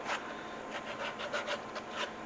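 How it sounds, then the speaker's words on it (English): Coarse sandpaper or emery cloth rubs along the edge of a leather cell phone holster, a close, steady raspy scrubbing in quick repeated strokes, brief and alone. "especially with some rough sandpaper, real coarse sandpaper or emery cloth"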